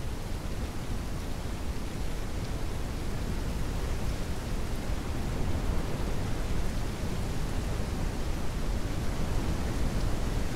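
Steady, dense rainfall in the survival video game Native Hunter, a continuous loud hiss that holds even throughout with no breaks and no voices.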